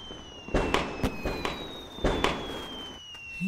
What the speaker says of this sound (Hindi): ये लोग पटाखे क्यों फोड़ रहे हैं?